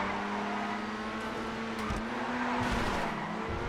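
An Italia RSX race car in GTA FiveM idles and revs at the race start, a steady engine drone with pitch shifts and a brief tyre squeal near the end, fairly faint and alone.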